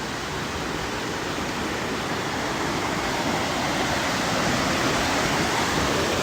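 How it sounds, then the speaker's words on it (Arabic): River flowing in Puncak, a broad steady rush of water that is loud and continuous, with no other sounds over it. "شوف النهر كيف"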